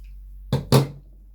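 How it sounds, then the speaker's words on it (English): Two quick, crisp scissor snips close by, about a fifth of a second apart, as the edges of a fabric bow are cut, with quiet surroundings before and after. "we are going to snip the edges just like this"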